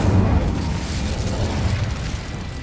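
An Incendio fire spell blasts out in the Hogwarts Legacy video game, a short, muffled fiery burst with a low rumbling boom that fades over a couple of seconds.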